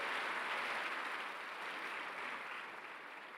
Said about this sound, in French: je vous demande d'accueillir et d'applaudir chaleureusement Pierre Gattaz et Pierre Moscovici